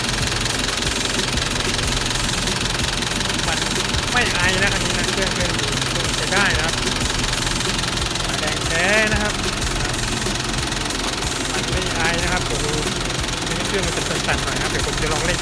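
A 1997 Nissan Big-M pickup with its diesel engine idling, a steady dense rumble with knocking character running continuously and close by throughout, while people talk over it.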